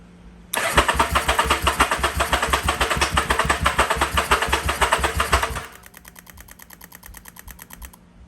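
A muscle motorcycle engine cranks and catches after sitting unused for a long time, roaring loud and steady with a rapid knocking pulse for about five seconds before dropping to a quieter, lumpy idle.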